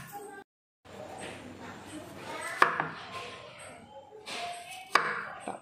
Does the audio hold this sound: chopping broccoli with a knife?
yes